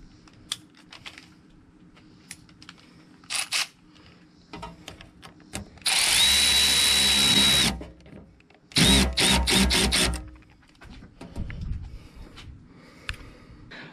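A power tool tightens the intake filter clamp on a 2005 GMC Sierra 2500HD during a K&N filter swap, with two short, loud motor bursts among quieter clicks and handling noises.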